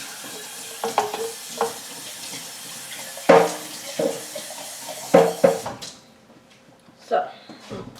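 Tap water runs into a pot in a home kitchen in short bursts, the splashing starting and stopping between clatters of cookware, with a person talking over it.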